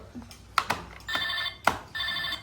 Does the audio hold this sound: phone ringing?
yes